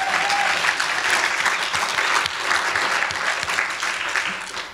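Audience applause at a SpaceApps bootcamp talk, a dense, sustained burst of many hands clapping close by that carries steadily to the end without pause.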